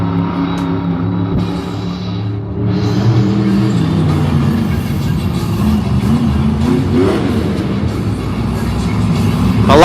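Max D monster truck engine revving loudly in an arena at a Monster Jam event in Lyon, France, a sustained roaring drone that builds toward the end with crowd noise underneath.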